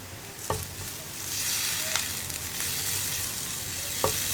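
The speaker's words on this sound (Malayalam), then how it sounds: "ഇതിലേക്ക് നമുക്ക് പച്ചമുളകും വേപ്പിലയും കൂടി ചേർക്കാം." Green chillies and curry leaves sizzle and crackle in hot oil in a pan while tomato fry cooks, a steady close frying hiss with a few sharper pops and stirring clatters.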